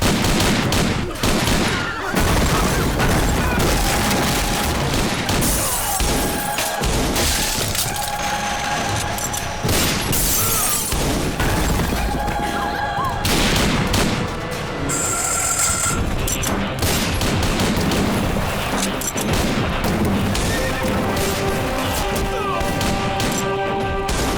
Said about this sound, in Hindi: अब शादी में गोली चलाने की क्या जरूरत थी?